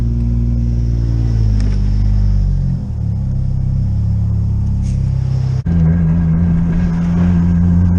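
A big-turbo Lexus GS300 engine idles steadily while warming up, with a deep, continuous rumble, its pitch shifting slightly midway, close and loud with no talking.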